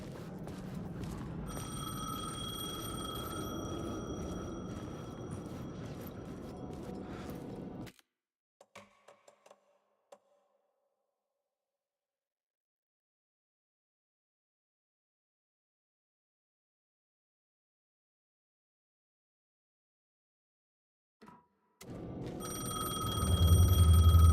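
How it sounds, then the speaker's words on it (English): A payphone in the video game Alan Wake 2 rings in a steady electronic trill for several seconds, then falls to near silence with a few faint clicks before the game's ambience returns. "The payphone was ringing."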